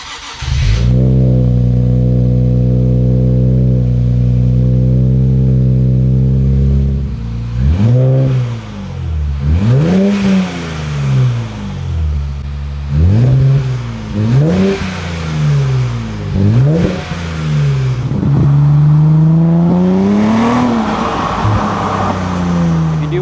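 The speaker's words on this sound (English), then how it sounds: "check for exhaust leaks by turning the car on and see how it sounds" A Nissan Z RZ34 fitted with an Ark GRiP exhaust idles with a deep steady drone, then revs up in repeated sharp blips, each rising and falling, loud and close with no talking.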